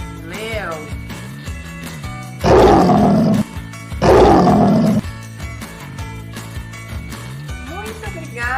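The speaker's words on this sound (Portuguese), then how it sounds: "Leão." Two loud, rough lion roars come one after the other in a children's animal-sounds cartoon, each lasting about a second, over cheerful background music.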